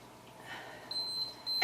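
A workout interval timer gives a sustained electronic beep partway through a low-impact cardio session, followed by a louder burst at the very end, with no talking.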